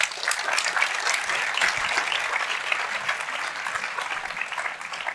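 Audience applause at an e-health conference in La Réunion, a dense, steady clapping from a large crowd that carries on for several seconds before tapering slightly toward the end.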